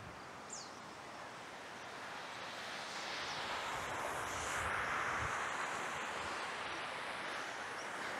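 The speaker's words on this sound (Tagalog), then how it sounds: "Tapos doon rinig natin lagaslas po ng tubig." Rushing water heard from a mountain view deck during a camping trip in Mayantoc, a faint, steady broad roar blended with wind and rustling leaves, slowly swelling and holding without any voices.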